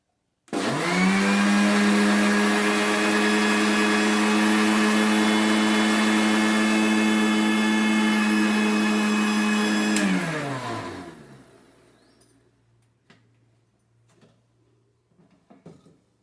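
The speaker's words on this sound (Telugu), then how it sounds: "ఇప్పుడు దీన్ని మిక్సీ పట్టుకోవాలి." A mixer grinder blends muskmelon with a glass of milk and two spoons of sugar, whining loud and steady for about ten seconds before spinning down, followed by quiet clinks and clatter of the jar.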